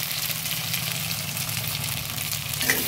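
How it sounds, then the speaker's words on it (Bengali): Sago pearls fry in hot ghee in a wok with a steady, close crackling sizzle, a dense continuous hiss with faint stirring underneath and a brief clink near the end. "ঘিয়ের মধ্যে সাবুগুলো হালকা করে ভেজে নেব।"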